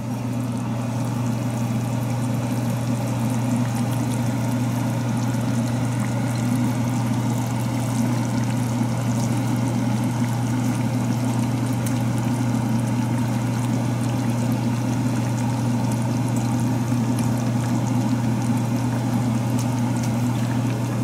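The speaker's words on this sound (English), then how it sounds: "So this has come to a boil" Water at a rolling boil in a pot, ready for eggs, gives a steady, dense bubbling roar with a low hum underneath, continuous and even throughout, with no voices.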